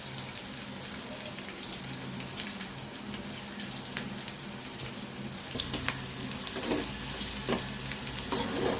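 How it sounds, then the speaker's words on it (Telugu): Onions, curry leaves and mustard seeds tempering in hot oil, a continuous dense sizzle with crackles and stirring scrapes, plus a watery splash or running tap toward the end. "ఆనియన్స్ ఎర్రగడ్డలు కరివేపాకు ఆవాలు వేసుకొని తిరగమాక పెట్టుకోవాలి"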